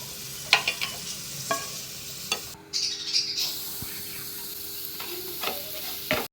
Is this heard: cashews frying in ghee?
yes